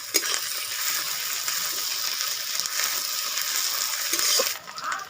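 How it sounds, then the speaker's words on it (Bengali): Ginger garlic paste hits hot oil beside fried onions while cooking crab curry, giving a loud, steady close sizzle with stirring that fades near the end, no talking. "এবার পেঁয়াজটা একটু সাইড করে তেলের মধ্যে দিয়ে দেব আদা রসুন বাটা"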